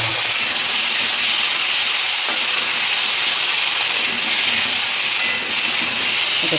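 Potatoes frying in hot oil with turmeric, a steady loud hiss of sizzling filling the whole stretch without pause, no voices over it.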